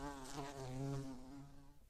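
Honeybees buzz steadily in a close, even drone, with a tone that wavers slightly throughout.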